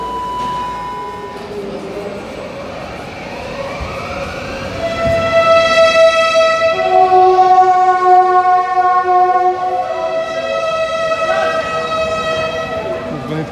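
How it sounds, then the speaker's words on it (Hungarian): Santa Claus Christmas train departing in Zagreb during Advent, a loud, sustained whistle-like tonal blast rising and holding for several seconds over rumbling rail noise in a busy outdoor setting. "Itt kijár a Mikulás vonat,"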